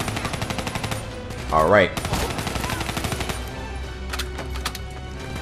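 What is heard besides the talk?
gunfire in Call of Duty Black Ops 3 video game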